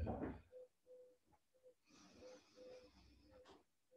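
Slow, soft breaths during a guided meditation exercise, heard close and quiet, with audible inhales and exhales carrying a slight wheezy, nasal hiss and gentle pauses between them.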